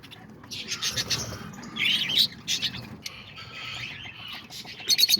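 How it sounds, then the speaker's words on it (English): Caged lovebirds chattering nearby in a home aviary, a busy stream of high chirps, squeaks and tweets in overlapping bursts over soft rustling background noise. "let's go check out the lovebirds and see what they're up to"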